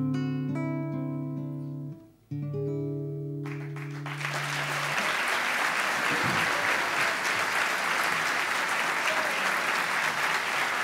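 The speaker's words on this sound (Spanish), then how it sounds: "Agradecemos con un fuerte aplauso el aporte musical del profesor Walter Cisneros" Sustained applause from a university conference audience after a live musical performance, rising from a held closing chord of music into dense, steady clapping that carries on loudly to the end.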